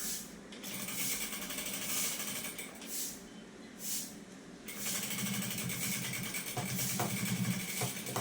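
A sewing machine runs in bursts of rapid mechanical stitching, whirring close up with short pauses between runs.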